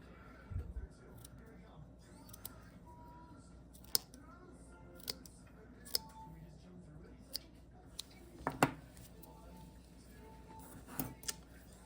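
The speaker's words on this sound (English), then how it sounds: "So now we can trim the ends of our tassel to make them all straight." Scissors trim the yarn ends of a tassel on a crocheted bookmark. Scattered close snips and small clicks sound over a quiet background.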